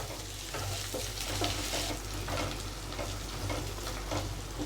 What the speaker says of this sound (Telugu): ఉల్లిగడ్డ లైట్ గోల్డెన్ బ్రౌన్ కలర్ వచ్చాక అల్లం వెల్లుల్లి పేస్ట్ ఈ అల్లం వెల్లుల్లి పేస్ట్ పచ్చివాసన పోయేంత వరకు వేపుకోండి